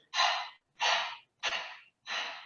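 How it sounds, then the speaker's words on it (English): Four sharp, forceful nasal exhales in yoga breathing practice, evenly spaced about every half second to second, each a short breathy burst that fades, with quiet passive inhales between and no talking. "It's this really sharp exhale through the nose, and then the inhale becomes passive."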